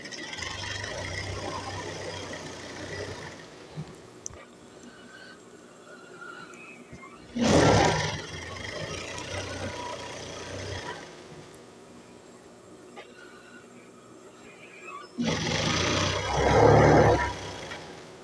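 A sewing machine stitches a seam on a ladies' trouser in two short motor bursts, with quieter handling and rustling between the runs.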